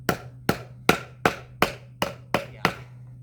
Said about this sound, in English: let's just hammer it in a little bit here.